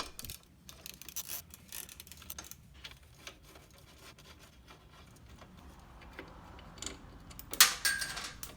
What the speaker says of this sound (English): Sounds like a shim dropped.